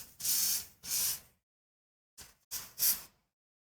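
Airbrush spraying mixed metallic paint onto a testing board for a model kit, four short bursts of close, bright hissing, two then a pause and a quicker pair, with silence between.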